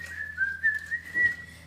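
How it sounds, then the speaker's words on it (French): A person whistles a short, wavering melody while washing dishes, a few clear sustained notes rising and falling, close and alone without talk, with a brief clatter near the end. "Siffler en travaillant."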